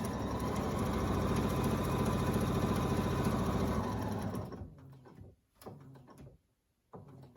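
A sewing machine stitches a fabric face mask in a fast, steady run for about four and a half seconds, then stops, leaving a few light clicks and handling knocks.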